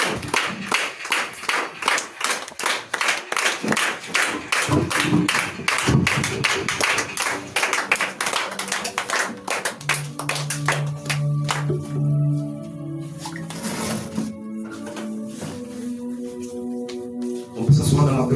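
A church congregation at a Sunday service claps together in fast, loud, steady rhythm with shouts of acclaim, then the clapping fades into scattered taps while voices and a sustained musical tone carry on.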